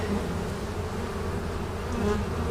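Honeybees buzzing in a steady, dense drone close by as a hive from a swarm call is opened, frames full of capped cells and stored pollen, the hum unbroken and even throughout.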